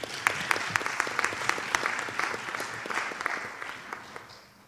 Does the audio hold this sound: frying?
no